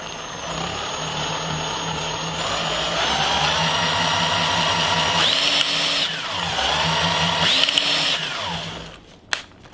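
A handheld power drill spins an alternator at high speed, whining loudly and steadily with harmonic tones that sag and climb as the load changes, a few pitch swoops along the way, before the motor winds down at the end.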